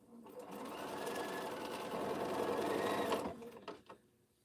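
A sewing machine stitching quilt pieces runs close and steady for about three seconds with an even whirring hum, then stops and leaves a few soft handling bumps.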